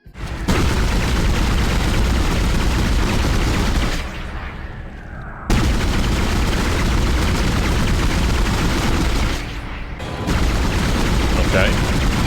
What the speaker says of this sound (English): here's a fairly entry-level pulse rifle in the original.